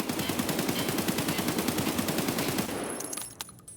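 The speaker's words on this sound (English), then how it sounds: "Next up is a 545 AK, AK-74 standard, right on the center." An AK-74 rifle in Escape From Tarkov fires a long, rapid full-auto burst of evenly spaced, loud cracks for about three seconds, then stops abruptly, leaving a few faint clicks.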